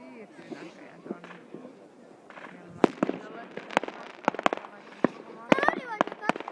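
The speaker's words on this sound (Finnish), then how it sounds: "noi on vaan ne kaupungin ilotulitukset, jotka tulee tuolta saaresta" New Year fireworks bursting over Vaasa, Finland, launched from an island: a rapid series of sharp cracks and booms, some close and loud, with crackling tails, as voices talk in the background.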